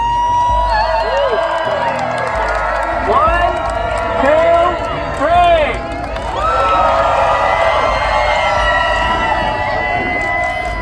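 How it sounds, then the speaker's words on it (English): A big outdoor crowd at a group photo in Black Rock City breaks into loud cheers, whoops and high shouts in repeated surges, with people talking and counting through it. "Each time, they were met with a loud cheer."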